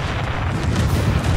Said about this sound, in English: I'm gonna drop some sector artillery on those bastards in the middle.